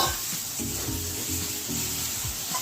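Eggs frying in hot oil in a pan while making a Bengali egg dish, giving a steady close sizzle with soft stirring and scraping sounds, no voices.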